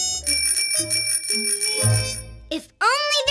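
A cartoon scooter bell rings with bright, repeated metallic dings over background music, followed by a burst of animated character voices.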